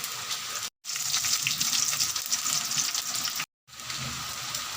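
Mustard seeds, chopped pepper and curry leaves sizzle steadily in hot oil in a Tamil kitchen, making a close, hissing crackle. Two abrupt brief gaps break the sound.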